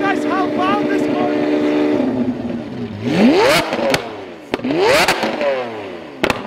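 A Lamborghini Aventador LP700-4 with a Fi exhaust revs hard twice, pitch sweeping sharply upward each time with crackling pops between, loud and close, after a stretch of low idling rumble.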